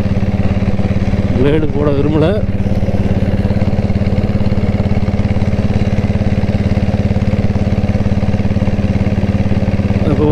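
A diesel Royal Enfield Bullet motorcycle in Apple Red runs steadily while being ridden, its low, even engine drone continuous throughout, with someone talking briefly over it near the start.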